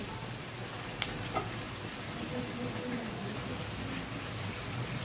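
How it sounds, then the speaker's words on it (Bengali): A soft, even sizzle of whole garam masala spices frying in oil for a Kolkata-style chicken biryani runs throughout, with a couple of brief clicks near the start and faint background hum. "গোটা গরম মশলাটাকে আমি হালকা একটু ভাজা করে নিচ্ছি।"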